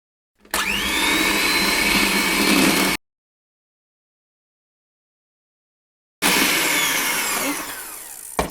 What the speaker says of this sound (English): And then I'm going to start whisking this until it's nice and creamy and light in color.